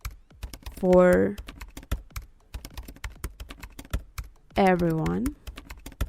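Computer keyboard typing runs steadily throughout as close, sharp clicks, with two short bursts of speech breaking in over the keystrokes.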